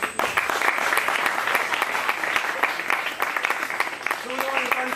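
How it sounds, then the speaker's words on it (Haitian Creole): An audience at a live stage performance applauds for several seconds with dense, sustained clapping, while a voice briefly speaks over it near the end. "Encore une fois, je demande d'applaudir Charles Dieudonné"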